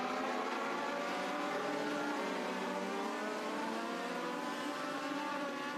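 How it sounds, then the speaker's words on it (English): Bandolero race cars lapping Charlotte Motor Speedway, a steady wall of high-pitched engine drone from several cars at once, continuous and loud with no break, rising and falling slightly as the pack runs through traffic. "now Cole Dockery has encountered some traffic. That is the number 6 car of Ryan Mingo"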